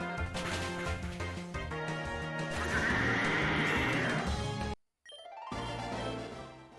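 Game sound effects for Rapidash using Flare Blitz in Pokemon Insurgence: a loud horse neigh and clattering hooves over a rushing burst, cutting briefly to silence before a shorter follow-up effect.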